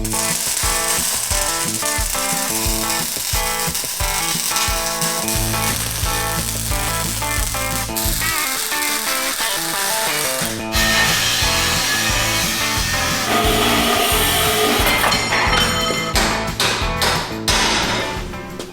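Welding on the boom of a very large off-road wrecker gives a steady, loud crackling sizzle that runs the whole time, with some shifting buzz and a few sharp ticks near the end.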